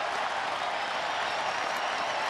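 A baseball stadium crowd rises to its feet with two strikes on the batter, a steady distant wash of cheering and applause that holds evenly throughout.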